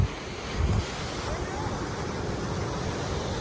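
Waves wash onto a debris-strewn beach at Saugatuck Dunes on the Lake Michigan shore, a steady close surf hiss with strong wind buffeting the microphone and a brief low rumble near the start.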